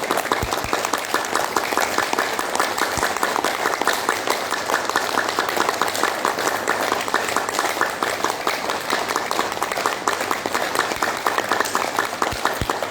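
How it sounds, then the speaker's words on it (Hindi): In a yoga session, hands are clapped forcefully together as the final exercise, a fast, even stream of sharp claps that continues without a break for the whole stretch. "आखिरी क्रिया, हाथ की ताली बजाना, खूब जोर से टकराना।"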